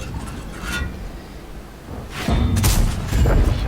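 A tank cannon fires in World of Tanks, a heavy booming blast followed by a second thump, loud over continuous engine rumble and battle noise.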